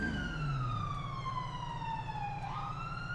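An ambulance siren in the video game FiveM sweeps slowly downward in pitch, steady and loud over a low engine rumble, with a sharp pitch jump near the end.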